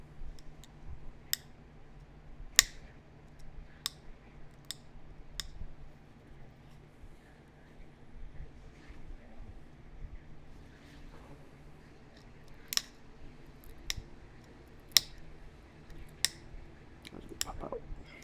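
A flintknapper works a piece of rough Iowa rock with a knapping tool, producing sharp, isolated clicks and snaps spaced unevenly over a quiet, close background.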